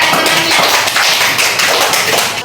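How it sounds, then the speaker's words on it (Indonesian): A classroom of primary school pupils applauds a classmate, a loud dense burst of many hands clapping close by for a couple of seconds. "Beri dulu aplaus kepada temannya."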